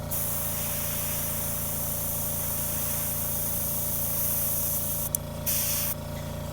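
An airbrush sprays paint for miniature painting through a small nozzle, giving a steady close hiss that runs throughout with a brief sharper burst near the end and no talking.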